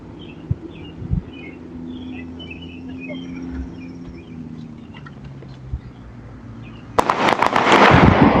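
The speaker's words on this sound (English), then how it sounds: "You heard once again 3 shots" A few sharp, loud shots crack in quick succession near the end, following a quieter stretch of outdoor ambience with birds and insects.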